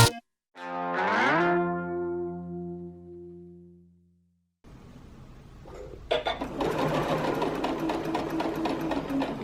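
A sewing machine stitches bias tape facing onto a garment, a steady close whirring hum of the running needle that follows a brief tonal swoop at the start, with no talking.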